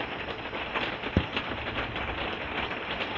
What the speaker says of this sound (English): We're getting some rain coming in.